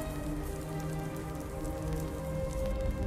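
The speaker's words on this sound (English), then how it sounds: "This rain will stop eventually." Steady rain pouring down in the Skyrim video game, a dense, even hiss of drops on surfaces that holds unbroken throughout, with no voices.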